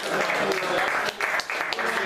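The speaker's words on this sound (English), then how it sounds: "Give a round of applause." Applause from a small audience at a community group meeting, a steady wash of clapping lasting about two seconds with a couple of brief dips, with speech mixed in over it.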